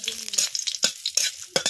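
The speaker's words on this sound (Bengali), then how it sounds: "তেল গরম হয়ে গেছে, কয়েকটা শুকনো লঙ্কা ভেজে নিচ্ছি।" Dried red chillies fry in hot mustard oil in a wok, giving a brief run of sharp, crackling sizzle bursts with quick stirring scrapes in between; no voices.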